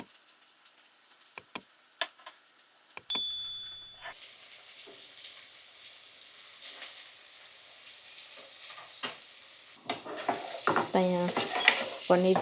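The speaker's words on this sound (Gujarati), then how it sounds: "આપણે એક એક પીસને પલટાવી દઈએ એટલે બીજી સાઈડ પણ ફ્રાય થઈ જાય." Paneer pieces fry in a pan over a low gas flame and are flipped one by one. A spatula clatters and scrapes against the pan while a soft sizzle swells near the end.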